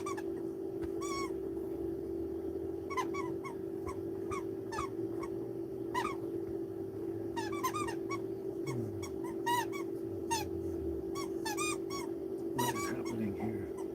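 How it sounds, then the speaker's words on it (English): A pet dog squeaks and whimpers in a tiny house on wheels, repeated short high squeals scattered through the stretch over a constant electrical hum, fairly faint in the background, with no talk. "you can hear Miss Squeaky in the background"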